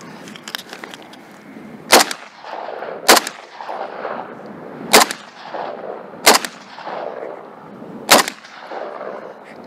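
Five loud gunshots ring out about two seconds apart at a shooting range during a timed shooting competition, sharp and close, with a rumbling background between the cracks.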